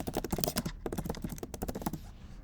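Rapid clicking of keys on a computer keyboard as a file name is typed, close and steady with short bursts and brief pauses, no voices.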